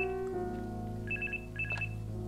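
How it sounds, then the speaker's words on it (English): A telephone rings in the horror game The Charnel House Trilogy, two short bursts of bright electronic trilling over a low droning ambient background. "Your phone's ringing again."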